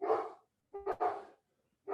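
A dog barks in a short, loud burst, falls silent, then gives a double bark, with another bark starting at the end; no one talks over it.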